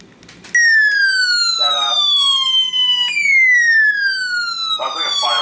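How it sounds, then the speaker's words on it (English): A Midland ER50 weather radio sounds its siren: a loud, piercing electronic tone that leaps up and sweeps slowly downward, twice in a row, as a person talks underneath. "So, the Siren on the ER50."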